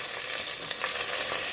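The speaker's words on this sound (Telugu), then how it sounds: "ఇప్పుడు ఈ ఆయిల్ వేడైన తర్వాత ఈ పోపులు వేసుకోవాలి" Spices for tempering crackle and sizzle in hot oil, a loud, dense, continuous frying hiss close up, with no voices, while cooking a dosakaya dal.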